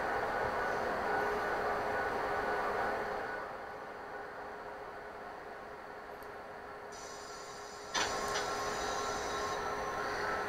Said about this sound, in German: wir fahren jetzt in den größten Bahnhof Berlins drin